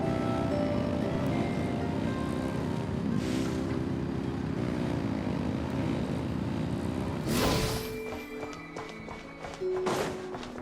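Steady low engine drone from a vessel in Genshin Impact, a dense rumbling hum that holds for about seven seconds before cutting to quieter, tonal game ambience with brief whooshes.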